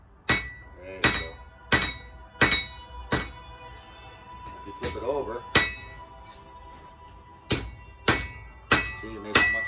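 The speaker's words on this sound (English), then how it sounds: "just hammer on the edge so you don't put a shoulder in it." A hammer strikes the edge of a blade during forging: about a dozen sharp, ringing metallic blows land in a steady rhythm, close and loud, with a voice talking between strikes.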